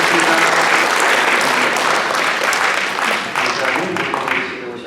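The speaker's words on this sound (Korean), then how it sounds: "박수로 환영합니다" Church congregation applauding to welcome a first-time worshipper at a Sunday service, a full, continuous wash of many hands clapping at once that holds steady and tapers slightly toward the end.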